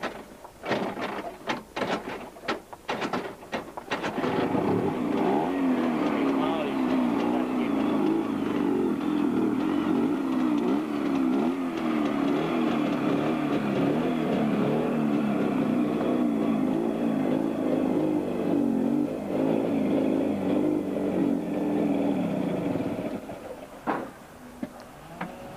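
A 1970s Velorex three-wheeler, licensed as a motorcycle, gives a few clattering starting sounds, then its engine catches and runs at a loud, steady idle for about twenty seconds before cutting off.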